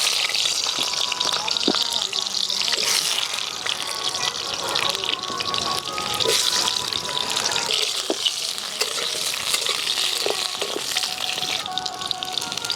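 Chicken pieces frying in a pan over a bamboo-fuelled fire, a steady dense sizzle with crackles and bubbling that runs unbroken throughout at close range.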